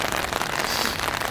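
Steady, consistent rain heard on an outdoor walk, a dense crackling patter of drops striking nearby surfaces, loud and unbroken.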